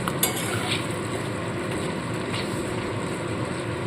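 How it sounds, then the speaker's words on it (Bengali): Cashews stirred into a pan of cornflour-marinated chicken for garlic malai chicken, giving a steady low sizzle with soft scraping and an occasional light clink throughout, no voices. "কাজু বাদামটা দিয়ে ভালো করে নাড়াচাড়া করে নেব কিছুক্ষণ।"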